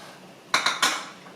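Vegan curry being scooped from a cooking pot, three quick metallic clinks of a utensil against the pot, close and fairly loud, with no speech.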